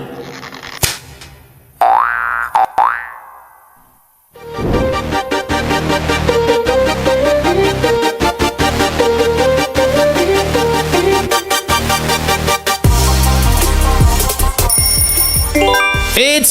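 Pringles audio logo: a short springy boing-like jingle up front, then a bright, busy musical sting with bell-like tones and a dense, loud backing running to the end.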